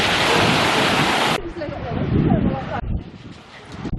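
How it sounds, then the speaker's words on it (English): Surf drags shingle back down a pebble beach at Sheringham as the tide recedes beside large sea-defence rocks: a loud, continuous rushing wash with heavy wind buffeting the microphone. "Big rocks here for the sea defences, and the shingling noise as the tide recedes."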